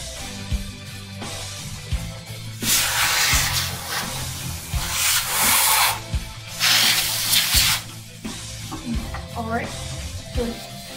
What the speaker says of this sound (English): I'm just going to keep on spraying until my PC is relatively clean